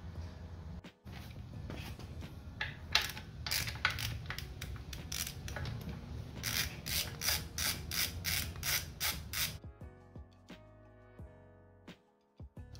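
A half-inch ratchet clicks in rapid bursts while removing transmission bolts from a 2005 Ford Focus ST, the close, loud pawl rattle repeating steadily over mechanical hum before stopping near the end.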